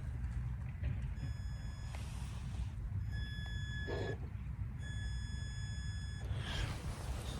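A high-pitched electric whine from a Fusion Pro motor in a TRX-4 RC truck rises and cuts out in several bursts over a steady low rumble outdoors.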